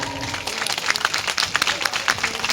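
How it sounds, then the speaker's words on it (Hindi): Audience applause at a network marketing motivational event, a steady wash of many hands clapping that stays loud and even for the whole stretch with no talk over it. "तहे दिल से शुक्रिया सर के लिए, जोरदार तालियां।"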